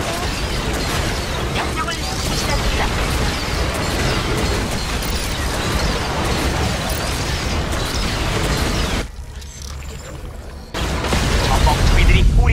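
Explosions and mechanical combat noise from a StarCraft II co-op mutation mission on brutal difficulty with Stetmann and Raynor, a dense, loud, continuous barrage with a brief quieter dip before the blasts resume.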